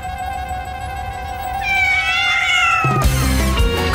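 Several cartoon cats meow in drawn-out, wavering cries that overlap and build in loudness, ending in a sudden burst of louder caterwauling over background music.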